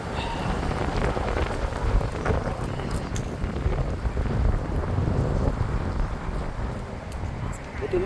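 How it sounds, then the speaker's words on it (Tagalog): Rain falling and gusty wind during an autumn bike ride, a steady hiss of drops mixed with rough wind buffeting the microphone, fairly loud and continuous with some faint spoken words underneath. "Parating na yung ulan."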